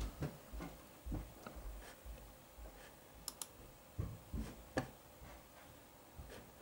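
Computer mouse clicks as a Win32 installer is opened in Linux Mint, a scattered series of faint, close ticks and clicks over a quiet room hum.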